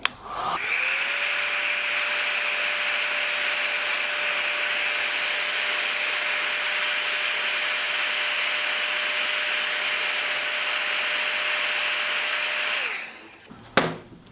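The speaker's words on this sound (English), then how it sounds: "Just going to give that a heat with the old heat gun." A heat gun heating a PVC knife sheath in a workshop runs as a steady, loud blowing whine for about twelve seconds, then switches off with a brief clunk and handling noise.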